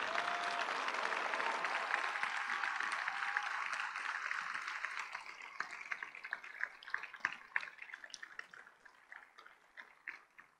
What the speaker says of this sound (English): I'd like a big round of applause for all these people